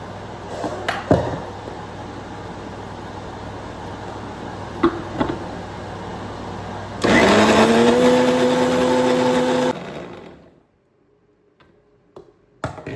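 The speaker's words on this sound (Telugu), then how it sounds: "దీన్ని అయితే మనం ఇప్పుడు మిక్సీ పట్టేద్దాం" A mixer grinder whirs loudly for about three seconds, motor pitch rising as it blends fried chillies, after a few clicks and knocks; then it stops abruptly.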